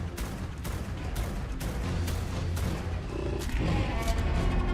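Sniper weapon fire in the video game Ark: Survival Ascended, a rapid series of sharp loud gunshots in quick succession, close and continuous over a rumbling background, with no voice present.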